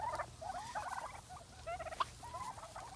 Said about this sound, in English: These turkeys just recently moved here